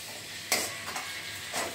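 Vegetables sauté in a pan for chilli cauliflower, a steady sizzle broken by three scraping stirs of a spoon against the pan, close and moderately loud.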